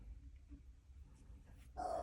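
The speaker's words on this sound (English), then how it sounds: "So I've got my dog barking." A dog indoors gives a brief bark near the end after a quiet stretch of low room noise, heard a little way off in a home.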